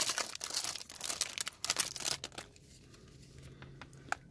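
A foil pack of 2016 Panini AfterWorld trading cards is torn open close up, with two seconds of ripping and crinkling followed by quieter scattered crinkles and one sharp crackle near the end.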